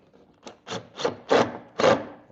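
Screw being driven into a wooden nightstand in a pole barn workshop, heard as five short rasping bursts that grow louder and longer, close by with no talking.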